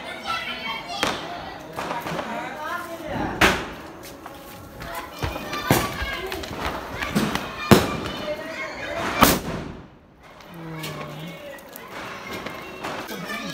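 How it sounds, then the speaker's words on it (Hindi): Hanuman bomb firecrackers burst during Diwali celebrations, with several loud sharp bangs scattered through the clip among crackling fireworks, while voices talk in the background. "हनुमान बम"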